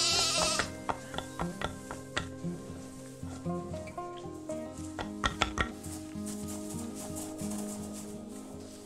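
Goats bleating in the zoo game Planet Zoo, several short repeated calls spaced over the scene alongside clicks and light clatter, with ambient game sounds underneath.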